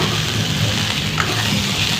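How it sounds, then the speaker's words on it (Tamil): Curry leaves fry in hot oil in a pan, giving a steady, loud sizzle and crackle with soft scraping from stirring throughout. "கொஞ்சமாக கருவேப்பிலை போட்டு நல்லா கிளறி விடலாம்."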